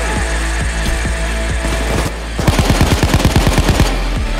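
Machine-gun fire in the bank-heist game Payday 2 sounds as rapid, evenly spaced automatic bursts. Loud, close shots run first, then a brief lull, then a faster, denser string of rounds.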